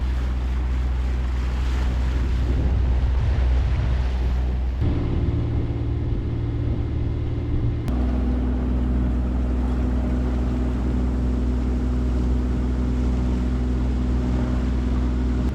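A sailboat motors under engine power at sea, a steady low engine drone with wind and water rush throughout and a couple of abrupt shifts in tone, loud and continuous.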